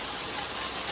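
Heavy rain pours down at night in Patan, a dense, constant hiss of drops striking surfaces all around, loud and steady with no voices.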